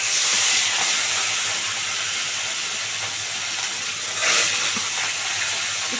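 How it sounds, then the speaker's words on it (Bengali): Pieces of rui fish sizzling in hot oil in a pan, a continuous hiss that swells briefly near the end, with no voices. "2 পিস করে ভেজে নেবো, তুলে নেবো।"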